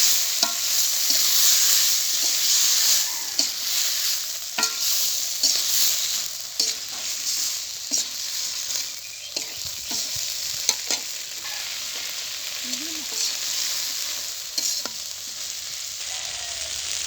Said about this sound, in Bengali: এখন আমি লতাগুলো ছেড়ে দিলাম। ভালো করে নেড়ে চেড়ে নিতে হবে।